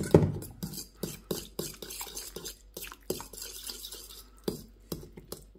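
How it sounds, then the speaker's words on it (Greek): Ingredients being stirred in a bowl with olive oil, a spoon scraping and clinking against the sides in a quick, irregular rhythm of close, sharp strokes with brief pauses between them. "Τώρα θα ανακατέψω τα υλικά μου."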